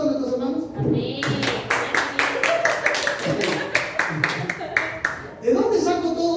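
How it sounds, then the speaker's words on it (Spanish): A church congregation breaks into rhythmic, sharp hand claps in steady unison for its fellow members. Talking is heard just before and right after the clapping. "Un aplauso a nuestros hermanos"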